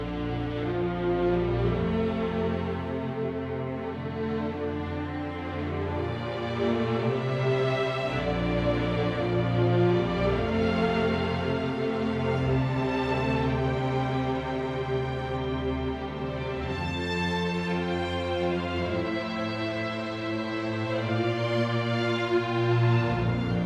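A full string ensemble plays a sustained, swelling film score passage for a hybrid production, with rich layered low and mid harmonies at a steady level and no voices.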